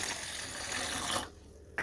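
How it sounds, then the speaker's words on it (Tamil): About a glass of water pours steadily into a pan for muskmelon sherbet, a close, continuous splashing stream that cuts off abruptly near the end, followed by a brief clink. "இதில் வந்து ஒரு ஒரு கிளாஸ் அளவுக்கு தண்ணி வந்து சேர்த்துக்கலாம்"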